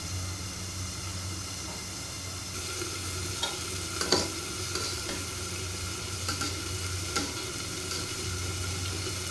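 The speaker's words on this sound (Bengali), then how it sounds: "ঢাকনাটা তুলে একটু নেড়ে দেব।" Polau rice being stirred in a pot with the lid lifted, for traditional Bangladeshi polau: a soft steady hiss with faint scraping and a few brief clinks from the spoon against the pot, no talk.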